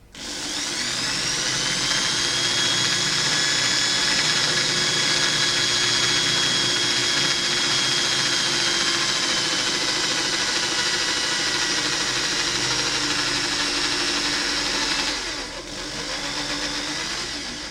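A 3.3 mm drill bores into the Delrin head of a speargun, giving a steady loud whine that holds for about fifteen seconds, then dips briefly and resumes, with no talking over it.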